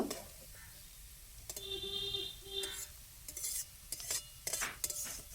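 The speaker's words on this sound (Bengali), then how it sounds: "সব কিছু দিয়ে এই পুরটাকে খুব ভালো করে নাড়াচাড়া করে মশলাগুলোর সাথে ভালো করে মিশিয়ে নেব" A spiced cauliflower filling for stuffed pitha is mixed in a pan, with short scraping strokes of a spoon coming in quick bursts over a quiet background and a faint tonal beep partway through.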